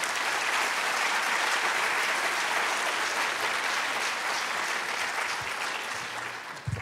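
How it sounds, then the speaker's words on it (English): A museum audience applauds the underwriters of an exhibition with a dense, even round of clapping that fades out over the last second, followed by a few low bumps. "Would you give them a round of applause, please?"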